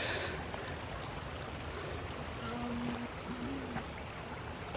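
A small creek in Boeing Creek Park, Shoreline, flows with a faint, soft, even trickle heard from close by, a quiet steady water hiss with no talking.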